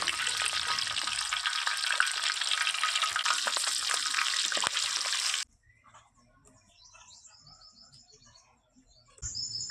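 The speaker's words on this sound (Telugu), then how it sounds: "చికెన్ పకోడీకి కొద్దిగా పచ్చిమిర్చి వేయించుకుందాం." Green chillies fry in oil for village-style chicken pakoda, a loud dense sizzle for about five seconds that cuts abruptly to quiet outdoor birdsong, then briefly returns.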